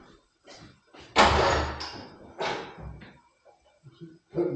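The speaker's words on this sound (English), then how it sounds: "Open the door here." A domestic kitchen door is opened with a loud clunk and scraping rattle, followed by a few softer knocks and bumps close by.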